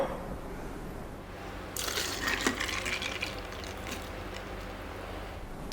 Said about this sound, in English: pour our fruit tea into the glass